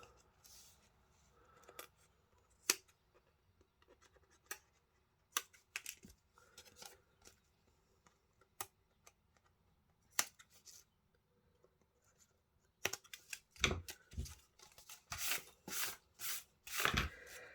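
Scissors snip through embossed paper heart wings, first as sparse single cuts in a quiet room, then as a rapid, louder run of close cuts near the end.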